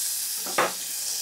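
Thin strips of bacon hit a hot sauté pan and sizzle, a brief soft burst of frying over a faint steady hiss.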